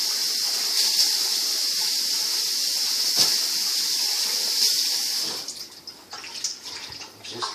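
Cold tap water runs steadily into a pot for menudo, a Mexican tripe soup, as a continuous close hiss and splash that breaks into uneven splashing near the end.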